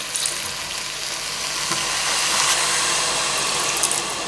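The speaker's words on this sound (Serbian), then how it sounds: "I sad mogu nasuti vodu." Water poured into a pot of beef goulash, heard as a continuous rushing, bubbling pour that builds slightly in strength for a few seconds, with a faint sizzle underneath.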